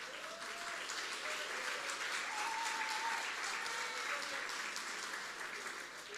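A church congregation applauding together, a dense sustained clapping that fills the space evenly for several seconds, fairly loud, with faint tonal sounds under it and no clear speech.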